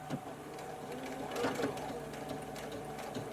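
A home sewing machine stitching along the edge of a simple fabric bag, needle set to the leftmost position: a steady close mechanical whir with a brief louder surge midway, a voice faintly present.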